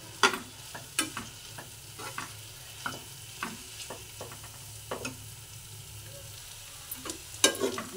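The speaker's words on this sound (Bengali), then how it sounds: "দেখুন ডিমটাও ভাজা হয়ে গেছে একদম।" An egg frying in a pan in a home kitchen, soft steady sizzle punctuated by irregular spatula scrapes and taps from stirring, close and quiet, no talk.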